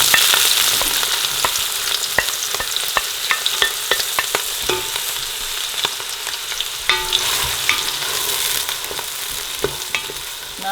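Whole garam masala and onions fry in hot oil, making a loud, close sizzle studded with frequent sharp pops and crackles and the clatter of stirring, steady for the whole stretch with no voices.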